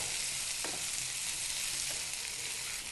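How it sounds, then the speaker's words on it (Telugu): Ivy gourd pieces fry in hot oil with a steady, even sizzle, broken by a couple of soft stirring strokes. "వీటిని కొంచెం ఎక్కువసేపే మనం ఆయిల్లో ఫ్రై చేసుకోవాలి"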